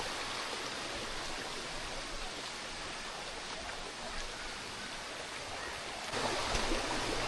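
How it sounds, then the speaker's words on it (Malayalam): Aruvikkuzhi waterfall at Thadiyoor, Pathanamthitta, with its stream running through the surrounding forest: a steady, broadband rush of falling and flowing water fills the whole clip, swelling a little louder near the end, with no voices. "ഈ വെള്ളച്ചാട്ടവും ചുറ്റുപാടുമുള്ള ഈ കാടിൻ്റെ സൗന്ദര്യവും"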